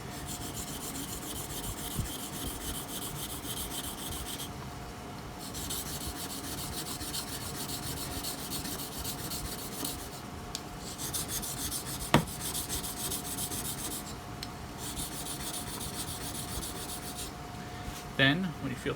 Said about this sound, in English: Move on to the finer stone when you've got the wire edge.